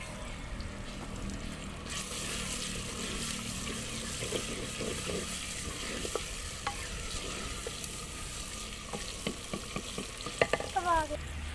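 Desi chicken fries in a spice masala, giving a steady, close hiss and sizzle throughout, with occasional scraping and clinking of a spoon stirring the pan, growing busier toward the end.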